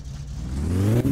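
A car engine in My Summer Car revs up steadily, its droning tone climbing in pitch and loudness over about a second, close and alone.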